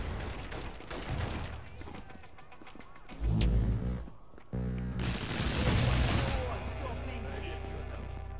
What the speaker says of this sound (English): Fireworks, man!